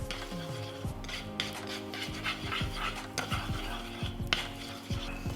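Egg being stirred and scrambled in an oiled hot pan, repeated scraping of a utensil against the pan over a low sizzle, close and moderately quiet with no voices.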